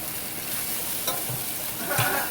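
Vegetables searing in a hot pan set between medium and medium-high, a dense, even crackling hiss filling the whole moment, with faint clinks of a utensil stirring through it.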